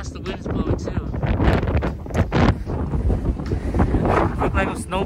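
Strong wind buffets the microphone outdoors in bursts and rumbling gusts, loud and close, while people talk over it.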